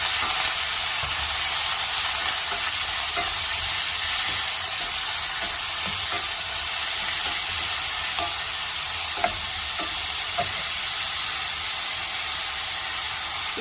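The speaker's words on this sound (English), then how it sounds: "Going in with the shrimp." Shrimp hitting a pan with garlic and crushed red pepper flakes makes a loud, dense, unbroken sizzle, close up, with faint scattered clicks of stirring and no voices.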